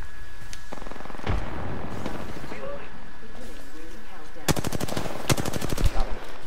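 Gunfire in the battle royale game Apex Legends: scattered single shots early, then two loud rapid automatic bursts near the end, with a player talking over the game sounds.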